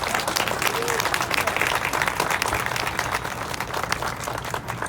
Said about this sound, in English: So please, honestly, a round of applause, pats on the back.